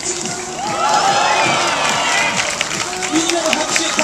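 A street-performance crowd watching a sword-juggling unicyclist cheers and claps in a loud, sustained burst, with shouts and scattered voices rising over the clapping.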